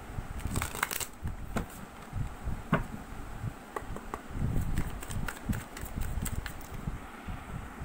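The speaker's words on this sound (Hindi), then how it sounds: "चलिए और भी कार्ड्स देख लेते हैं।" Tarot cards are shuffled close by, with irregular soft riffles and crisp flicking taps that come in bursts across the whole stretch.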